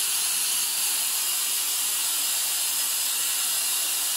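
A Kica jet fan blower runs at maximum speed inflating a yoga ball, giving a steady, loud, high-pitched airy hiss that holds without a break.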